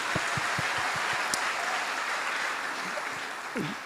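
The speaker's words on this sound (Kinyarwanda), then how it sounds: "tuyikomera amashyi menshi" A church congregation applauds in a dense, steady wash of clapping that holds for several seconds before easing slightly, with a few low thumps at the start.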